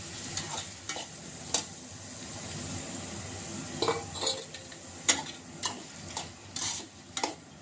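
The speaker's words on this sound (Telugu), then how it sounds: "ఇప్పుడు నేను బీరకాయలు వేసుకుంటున్నాను దీంట్లోని" Ridge gourd pieces are stirred in a hot pan over softly fried onions, giving a low sizzle under repeated scrapes and clinks of a spoon against the pan. The sound is close, moderately quiet and without talk.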